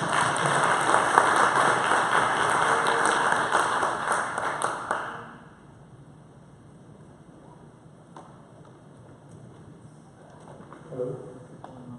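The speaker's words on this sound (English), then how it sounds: "let's give him a good round of applause to Sebastian" Audience applause for a conference speaker, dense clapping from a crowd for about five seconds, then fading out into quiet room tone with faint scattered sounds.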